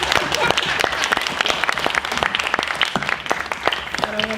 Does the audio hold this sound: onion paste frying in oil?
no